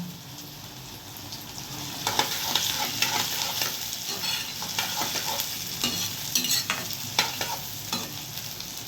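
Onions sautéing in a pan for poha: a steady sizzle with scraping stir strokes from a spatula, close and moderately loud, with no voices.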